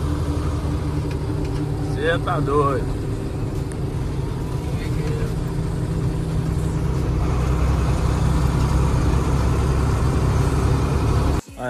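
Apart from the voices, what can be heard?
Mercedes-Benz 1113 truck engine accelerating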